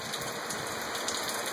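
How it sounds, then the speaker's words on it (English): Steady rain falls in a continuous, even hiss with a fine patter of drops, heard alone without any voices. "But again, that is some nice rain."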